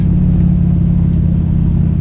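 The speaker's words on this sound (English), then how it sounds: "You press your foot down, at the very same time it opens up the carburetor, squirts a big shot of fuel down the throat" A 1984 TVR 4.0 V8 Wedge with a carburetor revs loudly and continuously, a deep steady rumble with no voices over it.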